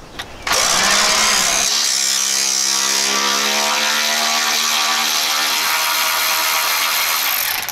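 A ratchet or power tool loosens 10mm bolts on a 2000 Jeep fan clutch, a loud continuous mechanical whir close up that starts abruptly and holds for several seconds.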